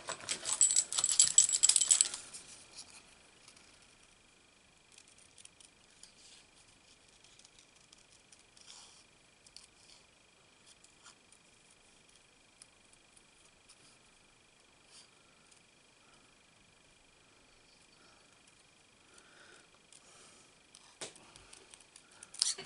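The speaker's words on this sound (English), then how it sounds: "let's cut these out." Scissors cutting out paper stamping pieces for a Stampin' Up Playful Penguins card project, a burst of close snipping and paper rustle at the start, then faint scattered paper handling and small taps, with no talking.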